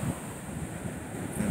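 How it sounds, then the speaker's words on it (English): Waves of the Atlantic Ocean break along a beach, a steady wash of surf mixed with wind buffeting the microphone, with the water swelling slightly louder near the end and nobody speaking. "The waves might be too much, because it's the mighty Atlantic."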